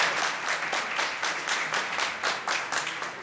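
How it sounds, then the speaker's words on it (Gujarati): An audience claps for a monk in a short, lively burst of applause with fairly even rhythm that keeps going throughout. "આજે આપણે સૌ તાળીઓના ગડગડાટથી મહારાજને શુભ આપવા માટે મહારાજને પ્રણામ કરીએ"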